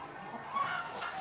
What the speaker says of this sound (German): Das Sulmtaler Huhn ist ein steiermärkisches Landhuhn.